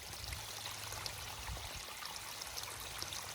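Irrigation water rushing steadily through poly pipe into furrowed rows of older corn, a constant close wash of flow with no pauses or voices.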